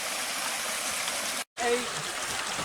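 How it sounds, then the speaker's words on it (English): Steady rushing water from a waterfall along a river trail in Cossatot State Park fills the clip, a constant broadband roar with a brief dropout in the middle. "Another pretty waterfall down there."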